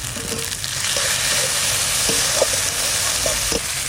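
Cumin, ginger, dried chilli, green chilli and mustard paste frying in a pan for a country crab curry, a loud dense hiss of sizzling oil with a few light stirring taps, close and continuous, no voices.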